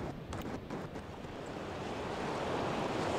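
Ocean surf rolls onto a beach, a loud, continuous broadband wash of breaking waves swelling toward the end, mixed with wind buffeting the microphone.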